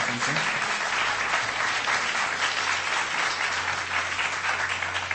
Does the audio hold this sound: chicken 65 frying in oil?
no